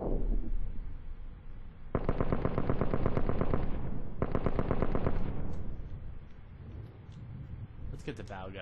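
Rapid automatic gunfire in the video game Advanced Warfare, two loud sustained bursts of about two seconds each separated by a short gap, with a player's voice talking briefly at the end.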